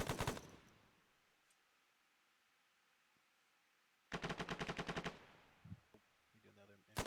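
Machine gun fire in a military video game, heard as two loud rapid bursts a few seconds apart with quiet gaps and faint radio-style voices between.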